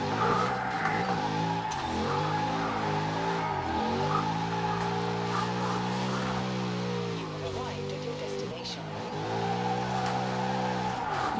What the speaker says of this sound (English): This is actually probably one of my favorite drift cars now, just in terms of fun and easy to drive.